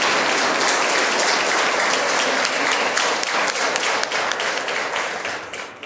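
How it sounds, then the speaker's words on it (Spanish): Loud, sustained applause from a church congregation honoring an image of Saint Francis Xavier during Mass, dense clapping filling the whole stretch and tapering slightly at the end. "Le damos un fuerte aplauso a nuestra imagen de San Francisco de Javier."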